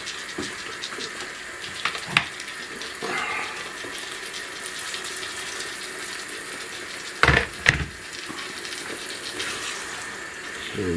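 Water running from a tap while cooking minced meat with mixed vegetables, a steady hiss with a few louder clatters of utensils or pot handling partway through.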